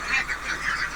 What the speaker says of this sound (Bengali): আজকে হাঁসগুলো অনেক শব্দ করতেছে